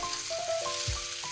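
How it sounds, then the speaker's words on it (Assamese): Local chicken meat seasoned with a little turmeric sizzles in a pan with a steady, close frying hiss and no talking. "আৰু অলপ সময় এনেকৈ ভাজি থাকিব।"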